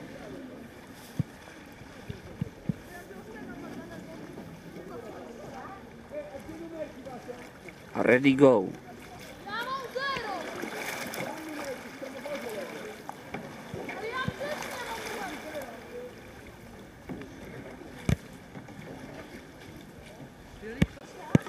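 Canoe paddling through rough water at a competition, with faint splashes and water noise, one brief louder burst of splashing, while people talk over it.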